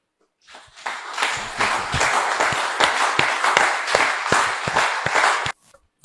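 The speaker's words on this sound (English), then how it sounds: "Can we have another round of applause for the founder, Citadel School of Government?" An audience at a church or lecture event breaks into applause, a dense burst of clapping that swells, holds steady with sharp individual claps standing out, then stops abruptly.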